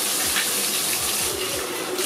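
Water running steadily while dirt and bark are rinsed off aquarium wood for a turtle tank, a continuous close splashing flow with faint low knocks beneath.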